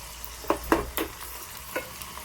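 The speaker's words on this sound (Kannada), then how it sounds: "ಬಿಸಿ ಆಗಲಿ ಎಣ್ಣೆ. ದೊಡ್ಡ ಸೈಜ್ ಬೆಳ್ಳುಳ್ಳಿ 1-2 ಇಳಿದು ಹಾಕ್ಕೊಂಡಿದ್ದೀನಿ." Large garlic cloves frying in hot oil over medium heat for gooseberry pickle, with a low sizzle and several distinct clinks and scrapes of stirring in the pan, close and fairly quiet.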